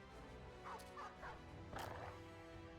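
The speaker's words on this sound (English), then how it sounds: "Very tempted to unleash a War Dog here, and I think we will." A war dog in Battle Brothers barks several times in quick short yaps amid faint battle ambience, fairly quiet and somewhat distant.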